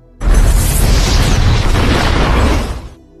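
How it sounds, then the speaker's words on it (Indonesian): A loud, sustained explosion roars up suddenly and rumbles with a broad, heavy blast for about three seconds before cutting off. "sesaat setelah ledakan terjadi"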